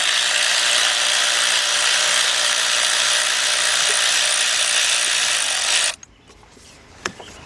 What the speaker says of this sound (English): So what we got here is a 10 millimeter deep 3/8 drive socket.